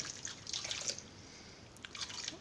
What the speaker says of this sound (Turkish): Ben şimdi üzerine örtecek kadar da şöyle suyunu koyduktan sonra haşlamaya bırakacağım.